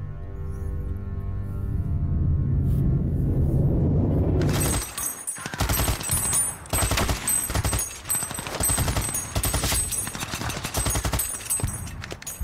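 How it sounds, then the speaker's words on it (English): German machine gun and artillery fire in a World War One Somme battle scene: a loud low rumble gives way to dense, rapid automatic fire with crashing impacts, sustained and chaotic. "They emerge from their trenches to face fierce German machine gun and artillery fire."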